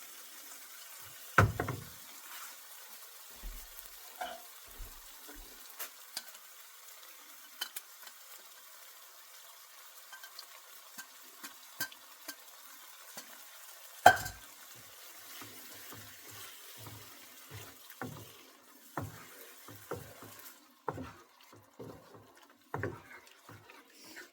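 Masala for veg Kolhapuri fries in oil as a tomato and cashew purée goes in, with a quiet low sizzle broken by scattered clinks and scrapes of stirring, and one louder knock midway.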